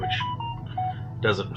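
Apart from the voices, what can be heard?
mobile phone notification sound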